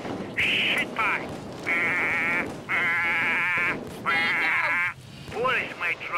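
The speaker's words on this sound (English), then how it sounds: "What noise does a goat make?" Goat bleats from the Payday 2 video game, several long wavering cries in a row with short gaps, loud and close over a busy game background.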